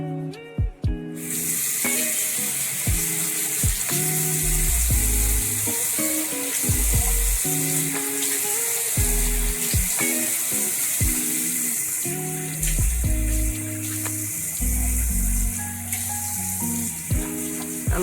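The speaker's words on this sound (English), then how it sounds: "we are going to put some warm water" Warm water pours steadily into a henna mix, a continuous bright hiss and splash heard alone from start to finish.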